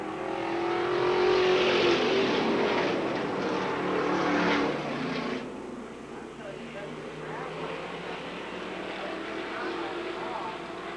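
Race cars roaring around a track during an evening race on lap 11, a loud sustained engine drone that swells and fades as cars pass, with a commentator talking over it.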